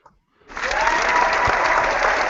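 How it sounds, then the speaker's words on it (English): Canned applause sound effect for a phone podcast intro, a short silence and then a burst of dense crowd clapping that swells in and holds steady and loud. "Gotta get that applause in there."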